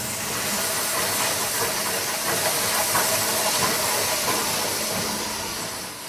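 A heavy press in a tennis ball factory moulds rubber nuggets, giving a loud, continuous steam-like hiss and rumble with a chugging, train-like rhythm that holds steady throughout.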